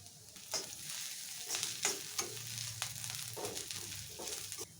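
Onions and ivy gourd fry in a pan for an Indian vepudu, a continuous close sizzle broken by several sharp scraping strokes of a spatula against the pan.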